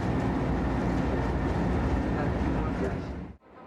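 A passenger train rolls steadily along the tracks in a dense, continuous rumble with faint rattling. The sound stays loud and even before cutting off abruptly near the end.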